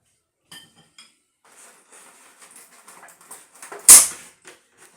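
An egg is prepared in a pan for a homemade Jamaican-style breakfast alongside bacon, with light clinks of utensils and cookware building to one sharp, loud crack near the end, then quieter rattling.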